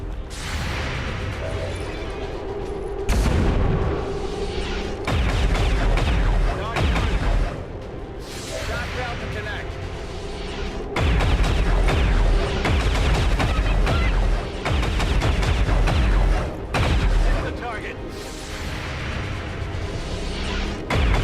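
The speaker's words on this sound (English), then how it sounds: "An aphrodisiacal amount of Overwatch fire stops the sectoid in its tracks." Overwatch gunfire from XCOM 2 soldiers engaging a sectoid, heard as several loud bursts of shots and impacts that come and go in waves over a continuous game soundtrack.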